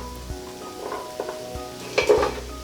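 Butternut squash chunks stirred through hot oil in a pan, with a steady close sizzle and soft scraping of the spoon, the stirring growing louder and busier toward the end.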